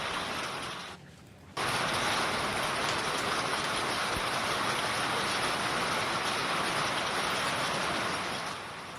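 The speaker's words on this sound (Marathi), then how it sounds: "दिवसभर उष्ण वातावरण होतं आणि त्यानंतर मात्र जोरदार पाऊस बरसू लागला" Heavy unseasonal rain with hail pours down over Sangli after a hot day, a dense, loud and unbroken roar that dips briefly near the start and then holds steady.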